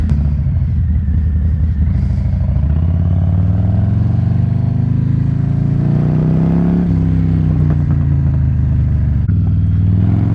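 A 2020 Harley-Davidson Low Rider S with a Reinhardt exhaust rumbles loudly up close, its deep idle swelling through a few throttle blips and settling back without any talk.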